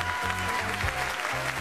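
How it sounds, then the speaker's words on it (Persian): A studio audience applauds a contestant on a game show, a brief burst of steady, dense clapping that fills the room, with low rhythmic music thumping underneath. "عزیزان تشویق کنید دوستون رو"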